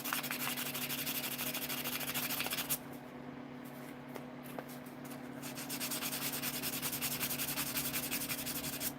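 Sanding a custom Buck 110 folding knife with fine-grit abrasive, a steady close rubbing scrape running continuously with slight changes in pressure and a brief lighter stretch midway.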